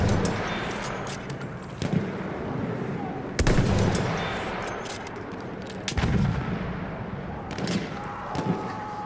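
Battlefield 1 battle: repeated gunshots and artillery fire crack out across the whole stretch, with sharp loud reports at regular intervals over a constant rumbling bed of distant combat.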